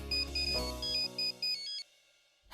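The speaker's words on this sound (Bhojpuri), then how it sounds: "प्रज्ञा दी के फोन लगा लेता नहीं अभी।" A phone rings while a call is being placed: a bright electronic ringtone in short repeating pulses, fairly close, that cuts off midway into silence before a new sound starts at the end.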